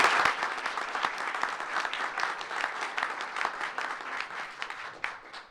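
An audience at a school board meeting claps for several seconds, a lively patter of individual hand claps that swells early and gradually thins toward the end.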